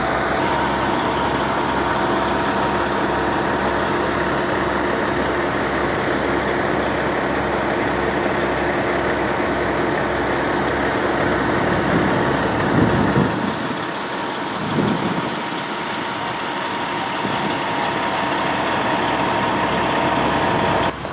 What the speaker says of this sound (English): That's a water truck.